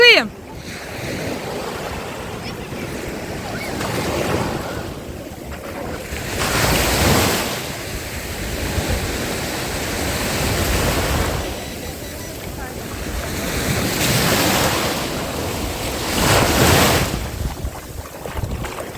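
Black Sea waves at Odesa surge and wash in repeatedly, each swell building to a rushing crest, with wind buffeting the microphone throughout and no talking.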